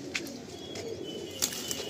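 Gehra Rampuri pigeons in a loft, giving soft, low cooing with a few faint chirps over a steady hum of background noise, short and fairly quiet.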